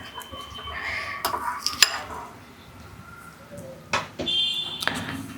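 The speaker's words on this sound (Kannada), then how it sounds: "ಕಟ್ ಮಾಡ್ತಾ ಇದ್ದೀನಿ" A knife cuts through a fried egg bonda, making a few sharp clicks and taps against the plate, one near the middle and a couple more toward the end, over a quiet kitchen background.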